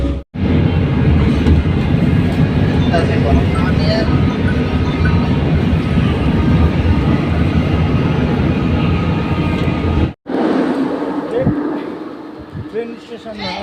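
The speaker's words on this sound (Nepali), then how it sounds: "ट्रेन स्टेसनमा आइयो, एउटा ट्रेन गयो" A train passes through a station, a loud continuous rumble and roar that fills most of the stretch before cutting off sharply, then returns more faintly, with voices mixed in.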